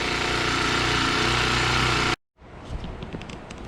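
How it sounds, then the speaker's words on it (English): A Mantis 4-cycle tiller with a Honda engine runs steadily at idle, loud and close, then abruptly cuts out, leaving quieter background clatter behind. "Cool little free Mantis Tiller 4-cycle with a Honda engine on it."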